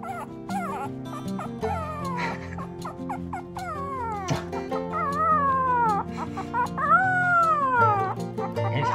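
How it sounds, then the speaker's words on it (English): A three-week-old West Highland White Terrier puppy howls in a run of thin, wavering yips and rising whines that swell and bend, close and steady, over a low droning background with no speech. "He's howling at an early age."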